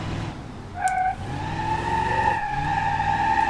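A car power sliding with the parking brake pulled in BeamNG.Drive, a Gavril Bluebuck lowrider with hydraulics, its steady engine drone rising and holding loud with a sustained tyre screech layered over it.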